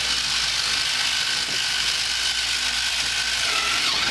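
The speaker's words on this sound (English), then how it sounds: "you can see these are just counter spinning wheels, and so you just approach a block" Counter-spinning wheels on a prototype robot intake for an FTC Relic Recovery 2017 robot, sucking in a cube: a steady, loud whirring mechanical buzz with a ratchet-like rattle that runs unbroken for the whole stretch, with no talking.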